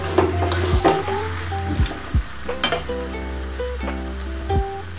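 Fish head curry with potato and eggplant, topped with coriander leaves, being stirred in a pan: a low sizzle with repeated scrapes and light clinks of the spoon against the metal, heard clearly and without voices.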